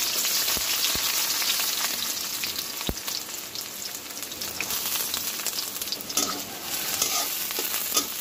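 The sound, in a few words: chopped onions frying in oil in a wok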